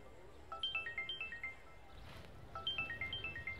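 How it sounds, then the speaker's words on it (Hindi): A mobile phone ringtone for an incoming call plays a bright repeating melodic pattern twice with a short pause between, fairly faint in a quiet room. "फोन आ रहा है आपका।"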